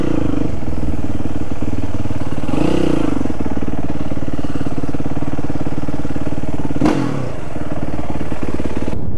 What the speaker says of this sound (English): I got that wheelie on video.